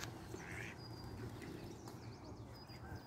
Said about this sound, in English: Please look at the small duck.